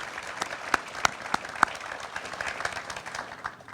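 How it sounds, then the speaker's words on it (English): Round of applause from the crowd at a fire fighters memorial at a fire college, dense clapping with a few sharper nearby claps standing out, steady for several seconds. "let's give everybody here at the Fire College a round of applause for this incredible production today."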